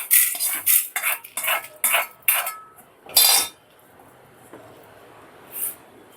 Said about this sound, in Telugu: ఇప్పుడు స్టవ్ ఆఫ్ చేసి వీటన్నిటిని ఒక ప్లేట్లోకి తీసుకోవాలి.